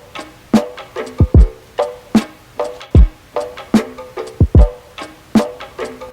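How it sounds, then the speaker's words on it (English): Drum break run through an RC20 cassette first-generation setting, with punchy kicks and snares in a steady groove over a layer of tape hiss, loud and alone. "the final setting that I am super duper fond of is cassette first generation"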